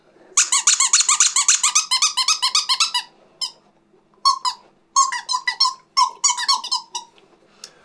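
A squeaky toy frog is squeezed again and again, giving sharp, close, high squeaks: a fast run of bursts, a pause, then several more clusters.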